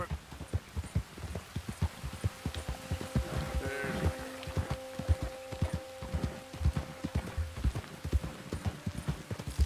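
A horse's hooves clip-clop in a steady trotting rhythm in the video game Red Dead Redemption 2, clear and fairly close, with light game ambience underneath.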